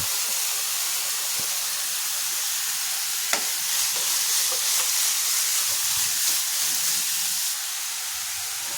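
Chopped onion, carrot and cabbage sautéing in a pan, a loud, steady hiss of frying with scattered stirring clicks and scrapes, the sizzle easing slightly toward the end.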